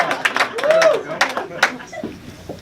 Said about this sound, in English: I get applause from the gentleman there.